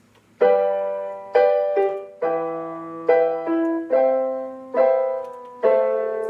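Solo piano playing a sequence of struck chords, about eight of them at a gentle pace, with the low notes stepping through a short passing bass line.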